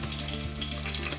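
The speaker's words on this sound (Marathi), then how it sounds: "गरम झालेल्या तेलात दालचिनी आणि तेजपत्ता टाकायचा आहे" Cinnamon and bay leaf crackle and sizzle in about three spoons of hot oil in a pot, a steady, close frying hiss throughout with no speech.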